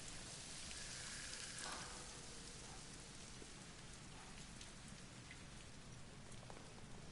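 Steady, dense rain in the video game Death Stranding, a loud continuous hiss of drops on surfaces with faint low rumbles underneath.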